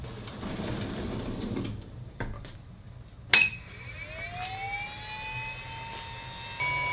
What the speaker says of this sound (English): that really annoying whine you can hear is from the cooling fan for this controller